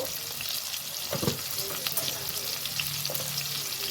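Chital fish bones frying with salt and turmeric while being stirred: a soft, continuous sizzle with light scraping thumps of a spatula, close up and fairly quiet.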